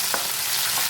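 Garlic, ginger and green chili sautéing in hot oil in a pan for okra masala, a loud continuous sizzle with a couple of brief stirring scrapes.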